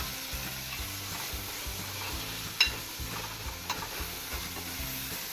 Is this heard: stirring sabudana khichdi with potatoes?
yes